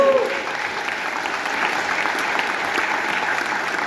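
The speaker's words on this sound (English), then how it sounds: "Come on, give the Lord a clap." A church congregation claps together in sustained, dense applause that fills the room at a steady level, with faint voices mixed underneath.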